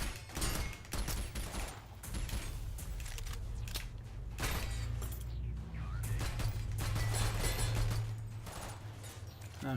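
Rapid gunfire from the video game Synthetik, dense bursts of shots and clattering weapon effects over a low droning soundtrack, loud and continuous throughout.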